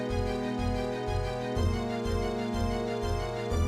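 Randomized background music from the Ocarina of Time video game, with a steady pulsing bass rhythm under layered sustained synth tones, moderately loud and continuous. No voices.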